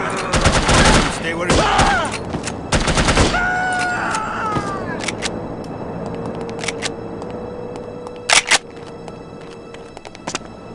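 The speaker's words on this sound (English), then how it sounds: "Somebody was firing rounds" Gunfire in the 2000 first-person shooter The Operative: No One Lives Forever: a cluster of loud, sharp shots in quick succession, then sparser single cracks and a final pair of reports, with a short spoken line partway.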